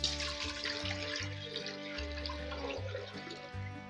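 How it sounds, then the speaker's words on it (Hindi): Water poured from above into a pressure cooker on a lit stove while preparing rajma, a steady splashing, gurgling stream running close and fairly loud for the whole stretch, with low hum beneath. "शामिल करूँगा इसके अंदर पानी"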